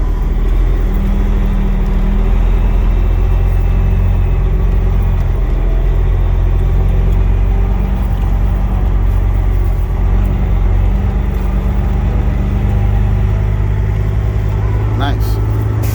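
Steady, loud low rumble of a Western Star semi truck engine droning continuously from inside the cab while driving, with road noise and no breaks throughout.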